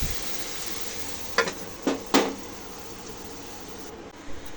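Radish curry sautéed in a pan for a small-fish curry with beans and potato, giving a soft continuous sizzle broken by three quick stirring scrapes close by.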